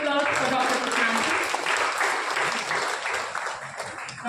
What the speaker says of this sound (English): Everyone, a big round of applause for Dr. Prasannanshu.